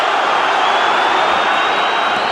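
A boxing arena crowd cheers for Peter Manfredo Jr. in a world title fight against Joe Calzaghe, giving a loud, continuous roar that fills the whole moment.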